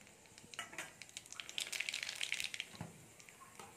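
Nigella seeds hitting hot oil in a wok for a spicy tangra fish curry, giving faint crackling and a short burst of sizzle with a few scattered pops.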